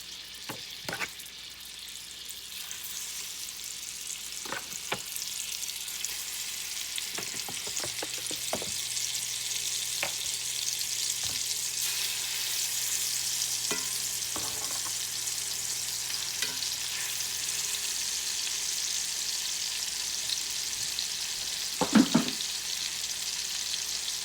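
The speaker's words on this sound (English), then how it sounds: "Okay, now that it's getting hot, I'm going to go ahead and start adding them to the skillet." Pork tenderloin pieces fry in a hot skillet with a steady, bright sizzle throughout. A few clicks and knocks of the pan or utensils break in, then a louder clatter near the end.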